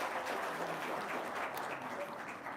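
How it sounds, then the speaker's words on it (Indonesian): Applause from a small group at a local gathering, a soft continuous patter of clapping that stays fairly even and slightly distant, fading a little toward the end. "Tepuk tangan dong."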